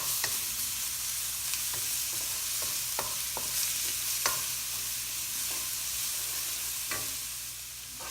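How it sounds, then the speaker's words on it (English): Garlic and ginger sauté in a pan with a continuous even sizzle, dotted with occasional light taps and scrapes of a stirring utensil. "the combination of garlic and ginger, when you are sauteing it, smells real good"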